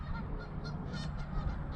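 Geese honk repeatedly a short distance away, their calls overlapping against a low outdoor rumble.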